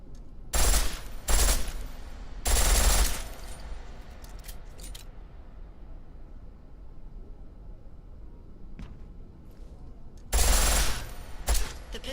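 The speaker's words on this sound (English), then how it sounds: "The pistol in full auto will take down targets fast, but it'll burn through your ammo." A pistol firing on full auto in Deus Ex: Mankind Divided rips out in several short, loud bursts, clustered early and again near the end with quiet gaps between.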